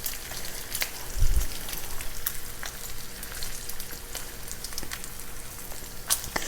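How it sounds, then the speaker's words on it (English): Bacon strips fry in a skillet with a steady crackling sizzle and scattered sharp pops, one low thump near the start, no voices. "bacon cooks up so fast"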